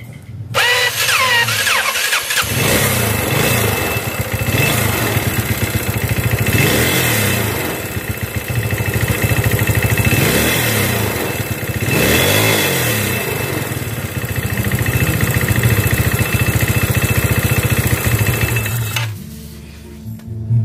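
A Yamaha Mio scooter engine idles loudly and steadily with a rapid ticking knock from a worn connecting rod running through it, then cuts off near the end.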